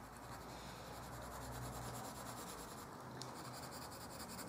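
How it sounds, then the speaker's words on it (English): A pencil pressed hard against paper, shading for the darkest tone, gives a steady, continuous scratchy rubbing that runs throughout at close range, with no voices. "So, using that pencil to try and get myself the darkest possible tone."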